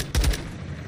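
A short, loud burst of heavy gunfire during a helicopter gun run in Call of Duty Modern Warfare II, a single thumping volley that fades into a low rumbling tail.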